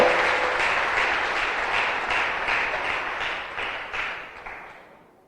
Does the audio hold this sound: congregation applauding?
yes